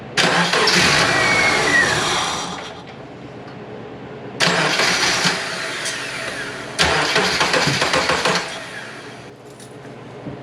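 A Subaru Impreza GF8 engine cranks over three times during a fuel pressure test, each long, loud whirring starter burst separated by short pauses, close up with no talk.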